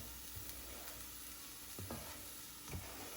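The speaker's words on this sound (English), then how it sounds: "I like to sweat out the onions for a minute before I add the green onions and the thyme" Onions sweating in a pan for Jamaican beef patties produce a faint, even sizzle, with a couple of soft utensil knocks; quiet and close, without speech.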